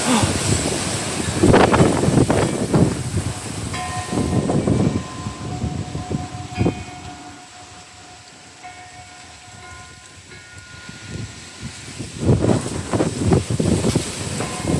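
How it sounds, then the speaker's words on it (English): Strong gusting wind during Storm Darragh roars through a garden and buffets the microphone, rising and falling in loud surges with a calmer lull midway. "Oh, there's the wind."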